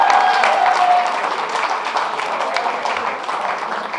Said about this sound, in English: Can you please give them another round of applause?